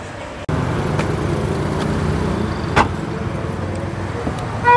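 A Grab ride-hailing car pulls up at night after a door-like thump, its engine and road noise steady and close for several seconds, with a few sharp clicks and knocks over the hum; no one talks.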